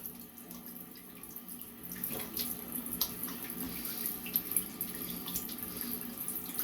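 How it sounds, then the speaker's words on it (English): A bathroom tap runs steadily with cold water splashing into a sink while a face is rinsed after shaving off a beard, a soft, continuous hiss with small splashes. "Give myself a good cold water rinse."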